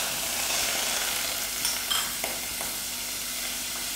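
Rama margarine melts and sizzles in a hot pot along with peppers, chili powder and mixed herbs for a samosa filling, producing a steady, close frying hiss with faint stirring scrapes and no talk.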